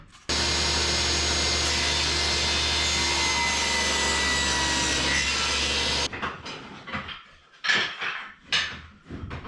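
Table saw ripping cedar trim board: one continuous loud whining cut lasting several seconds, followed by the blade spinning down with scattered clatter and knocks of wood being handled.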